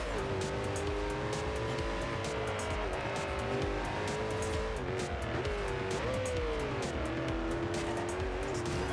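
Koenigsegg Agera in Forza Horizon 2, its engine holding a steady high tone with gear-shift pitch jumps and faint tire squeal, loud and continuous throughout with no talk.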